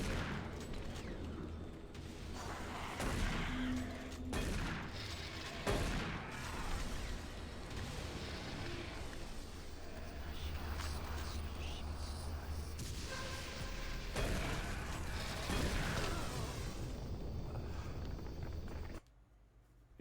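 Repeated booming grenade explosions and gunfire from the game Doom 3, loud and dense across the clip with scattered impacts and footsteps, cutting off near the end.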